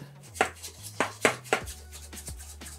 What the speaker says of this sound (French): on y ajoute la levure et on mélange à l'aide d'un fouet